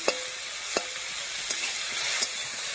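Vegetables fry in a pan for a lata fish curry, a steady bright sizzle with a few soft stirring taps, close and without voices.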